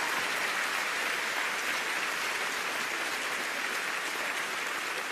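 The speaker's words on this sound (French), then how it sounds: "On peut applaudir Michel Drucker." A live theatre audience at a Kev Adams comedy show applauds Michel Drucker, a steady, dense wash of clapping from a large crowd that holds evenly throughout.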